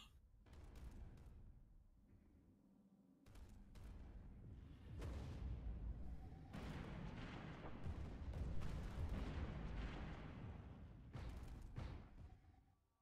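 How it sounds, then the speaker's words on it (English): A fleet of giga cannons firing in Stellaris, heavy booming blasts and rumbling bursts repeating irregularly over several seconds, dense layered explosions swelling and fading. "That's 150 giga cannons to fire at the enemy."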